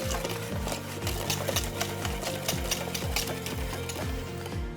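Batter for a chocolate fondant being whisked in a mixing bowl, a steady rhythmic whirring and scraping that repeats in even strokes, close and fairly loud, with no talking.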